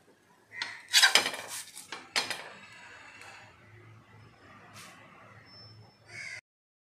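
Panki, a traditional Gujarati snack, lifted onto a serving plate, with close clinks and scrapes of utensils on dishes in a few bright bursts, then quieter handling.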